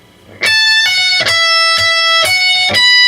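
Electric guitar solo phrase from a song, played alone with a bend, vibrato and pull-offs: several picked sustained notes in a steady loud line, each attack clearly marked.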